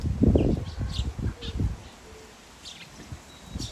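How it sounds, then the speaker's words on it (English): A flock of about eighty sparrows gathers at a feeder, giving scattered chirps and tweets at a moderate distance, mixed with low rustling and handling thumps that fade to quieter calls. "we have a gang of sparrows. There they are, they're starting to form now on that feeder up there. You can hear them."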